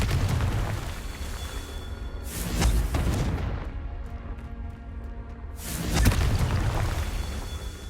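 Confringo blasting spells explode in the Hogwarts Legacy video game, two loud booming bursts with whooshing tails over a dense rumbling background.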